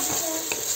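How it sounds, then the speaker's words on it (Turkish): Chopped onion sautés in a pan with meat for a bean dish, a constant close sizzle with a faint scrape of stirring. "Şu soğan kavrulsun ondan sonra."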